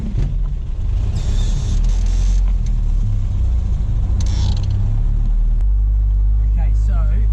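Junkyard Datsun driving on the open road with a steady, loud low engine and road rumble, plus occasional brief rattles and wind hiss over the top.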